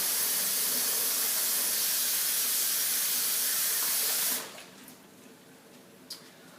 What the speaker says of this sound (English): I will put these over in the sink. Wash my hands like I said.